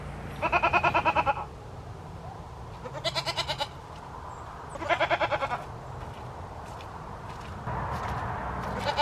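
Goats bleat in several wavering, stuttering calls spaced a few seconds apart over a low outdoor background hum.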